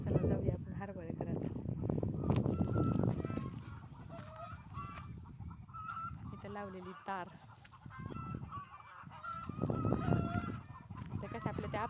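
Hens on a farm cackle and call loudly and repeatedly in a busy, overlapping chorus, with a person talking over the birds nearby.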